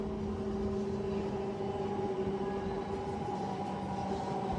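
A Kacheguda–Raichur MEMU passenger train runs along a single line, heard as a steady, fairly quiet rumbling drone with a constant tonal hum and no talking.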